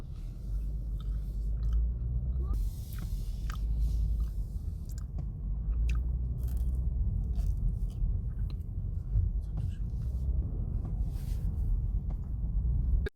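Walnut cakes (hodu-gwaja) with sweet red bean filling, bought at the Gapyeong highway rest stop, being chewed close up in a steady, soft, moist rhythm for several seconds, with no talking over it.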